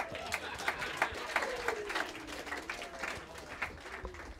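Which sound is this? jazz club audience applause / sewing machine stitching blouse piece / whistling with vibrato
jazz club audience applause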